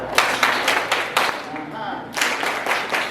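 A group of children claps in a children's church programme, a burst of sharp, roughly rhythmic hand claps around a short spoken pause, close and lively.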